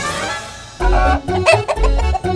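A person in a TV comedy scene imitates a rooster crowing, with loud, close, strained vocal bursts in a short series rising and breaking off.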